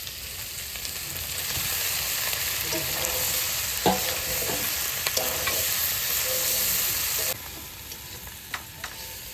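Duck meat with masala being stir-fried in a pan as potatoes go in, a continuous close sizzle with scraping spatula strokes and a few clunks against the pan.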